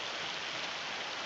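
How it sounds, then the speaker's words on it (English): Steady rain pours down outdoors on a farm among trees, a dense continuous hiss with no gaps across the short stretch, fairly loud and close, with no voices. "Between that constant sound of rain, branches on these trees, trying to get the truck loaded"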